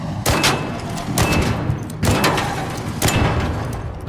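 Heavy gunfire in the video game Arc Raiders, four loud booming shots at roughly one-second intervals, each with a thudding low tail, close and dominant with no talk over them.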